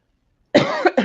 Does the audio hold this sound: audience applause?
no